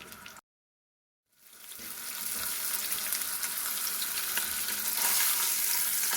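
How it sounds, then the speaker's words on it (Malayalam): Karimeen fish half-frying in hot oil in a pan gives a loud, steady sizzle after a brief silence, rising quickly and holding a dense crackling hiss close by. "നമുക്ക് ഒരു പാനിൽ ഓയിൽ ചൂടായി കഴിയുമ്പോൾ ഒന്ന് ഗ്രില്ല് ചെയ്തെടുക്കാം പകുതി ഫ്രൈ ആയാൽ മതി"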